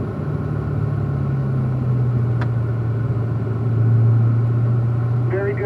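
A race car on the track at Pahrump, Nevada, keeps up a steady, droning engine rumble, close and unbroken throughout, swelling slightly near the end.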